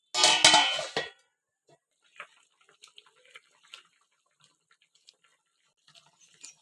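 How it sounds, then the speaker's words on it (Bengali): A pot of papaya-and-potato fish curry gets a brief loud clatter of metal and liquid, the lid being set on, followed by a few faint scattered clinks in near silence. "একটু নাড়িয়ে নিয়ে ঢাকা দিয়ে দেব।"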